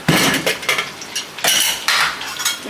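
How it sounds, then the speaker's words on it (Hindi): A cooled pressure cooker holding singhara curry is opened after three whistles. Several sharp metallic clanks and scrapes of the lid against the steel pot ring out close and loud at irregular intervals. "अब कुकर ठंडा हो गया। मैं कुकर को खोल रही हूँ।"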